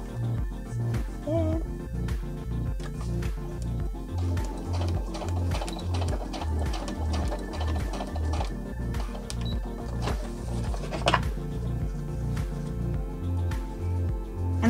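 Sewing machine stitching a PUL nappy cover, a steady close mechanical rhythm of needle thumps and ticks running throughout.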